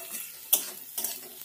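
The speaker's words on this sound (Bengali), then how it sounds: "এবার নাড়িয়ে চাড়িয়ে দেখি পেঁয়াজটা কিরকম হয়েছে।" Softened onions frying in a pan are stirred with a utensil, giving a soft continuous sizzle broken by two sharper scraping strokes against the pan, close and moderately quiet.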